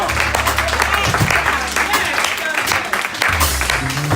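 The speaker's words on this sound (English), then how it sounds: "Round of applause again." Audience applause for performer Jamshed Ahmed, a dense, steady wash of clapping filling the room, with an emcee's voice running over it.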